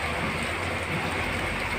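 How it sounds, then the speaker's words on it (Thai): Rain falls steadily on a Thai village, a dense, even hiss that lasts throughout with no pauses and no voices. "สายฝนกำลังโปรยปลายลงมานะครับผม ภายในหมู่บ้านนะครับผม"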